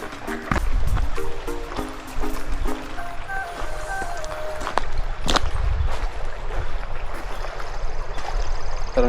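River water rushing beside a hiking trail on the Widow Maker trail in Kananaskis, a steady broadband wash throughout, with scattered tonal blips and a sharp knock partway.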